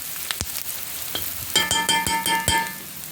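Vegetables fry in a pan for Polish cabbage soup, giving a soft, steady sizzle broken by a series of sharp utensil clinks and stirring taps in the second half.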